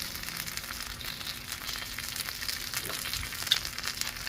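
Fajita flautas frying on a hot Blackstone griddle, giving a soft continuous sizzle with faint crackles and small pops, fairly quiet with no talking.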